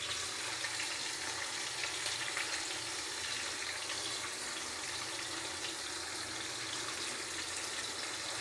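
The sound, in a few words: onions frying in a pan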